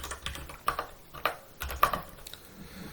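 Shell commands are typed on a computer keyboard in quick, uneven bursts of close, crisp key clicks, with a few slightly louder strokes among them and no voice.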